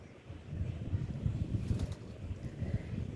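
Soft, low cooing from an original Bateri pigeon pair kept at a loft, steady murmuring tones under light wind noise, close but quiet.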